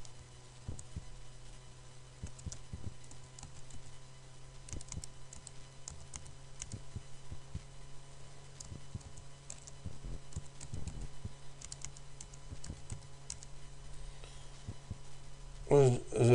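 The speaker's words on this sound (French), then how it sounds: "je tape un mot de passe pour accéder à la zone admin" Keys clatter in quick irregular bursts as a password is typed on a computer keyboard, soft and close over a steady low hum, with a louder clack near the end.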